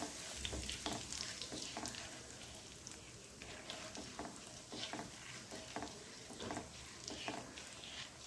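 Kalonji, ajwain and hing roasting in hot mustard oil for instant amda pickle, giving a steady close sizzle with frequent small crackles and pops throughout, no talking.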